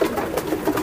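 A racing pigeon hen coos softly and close by, a few low, throaty burbling pulses repeating over under a second.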